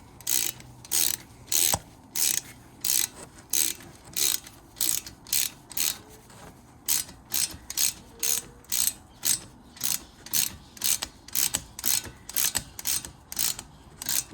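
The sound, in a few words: wrench tightening Mini Cooper R50 front brake bolt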